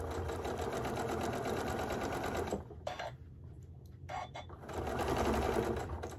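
A sewing machine stitches fabric for a round pinch pot holder in steady rapid bursts, pausing briefly as the fabric is turned and then resuming, loud and close with no voices.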